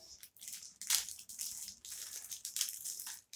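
Foil wrapper of a football trading card pack is torn and crinkled open up close, with sharp crackling bursts and rustling in an uneven rhythm and no talk.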